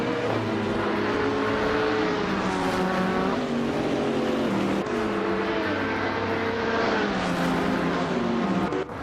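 Several race cars in a racing video game roar continuously, engine pitch rising and falling with gear shifts and overtakes, loud and close without any talk.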